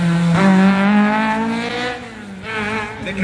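A historic rally car at the Rallye du Chablais 2023 arriving at speed, its engine loud and close with a rising, then falling whine as it sweeps past.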